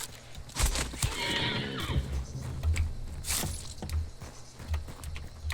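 A horse in the video game Hunt: Showdown lets out a clear, wavering whinny, with snorts and soft hoof clops around it, at moderate distance in a quiet scene.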